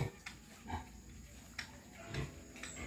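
A pig gives a few short, soft grunts at a piggery site, scattered across a quiet moment over a faint background hum.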